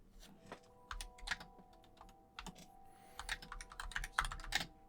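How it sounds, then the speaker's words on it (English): Someone types on a computer keyboard in irregular bursts of close, crisp clicking keystrokes over a faint steady electrical hum, with no one speaking. "He's typing."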